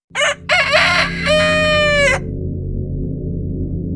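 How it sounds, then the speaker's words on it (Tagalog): A rooster crows loudly and close, with a few short clucks before one long drawn-out crow, then low steady background noise. "ang tilaok ng manok ang tanging maririnig mula sa di malamang direksyon"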